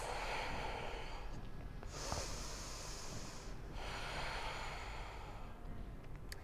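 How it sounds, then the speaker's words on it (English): Steady nasal breaths during a standing crescent lunge in a yoga flow, two long airy exhalations swelling and fading over a constant low room hum, close and fairly soft, no talking. "Let's take one more breath here."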